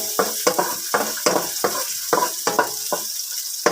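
Chayote sautéed with chicken, onion and tomato in a pan, with a steady hiss of frying broken by repeated scraping stirs of a utensil at a fairly quick, uneven rhythm, close and clear with no talking.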